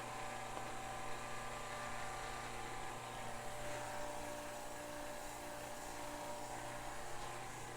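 A reverse osmosis machine pump runs steadily while recirculating maple sap, a continuous faint mechanical hum and whine with no change in rhythm and no talk.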